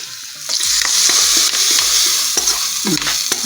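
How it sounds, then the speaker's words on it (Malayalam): Sautéed onions and a hot oil tempering poured into a spicy sardine curry cooked with chili powder, a loud close sizzle that bursts up and holds steadily with crackling spatters throughout. "അപ്പോൾ നമ്മുടെ മീനിലേക്ക് നമ്മൾ ഇച്ചിരി ഉള്ളി എല്ലാം കൂടെ വഴറ്റി ചേർത്ത് താളിച്ചൊഴിച്ച്"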